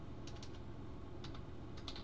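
Computer keyboard typing with two or three quick clusters of key clicks, fairly close, over a steady low background hum, with no talk.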